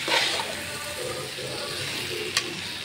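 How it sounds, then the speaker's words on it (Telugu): Water pours into a pot of fried rice for mushroom biryani, a brief steady gushing splash with a soft sizzle beneath it, close and moderately quiet. "ఇప్పుడు మనం తగినన్ని వాటర్ పోసుకుంటాం"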